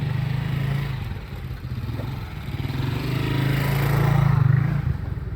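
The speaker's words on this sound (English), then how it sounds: "when he was just turning around on that motorcycle" A motorcycle engine runs at a steady mid-pitched drone on a street in Cali, Colombia, swelling slightly as the bike turns around, with a continuous rumble and faint background clatter.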